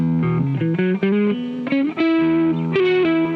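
A Kauffmann '59 SC plain-top electric guitar picked lightly, giving clear, ringing single notes and short melodic phrases through an amp that cleans up, with only mild grit and bright sustain.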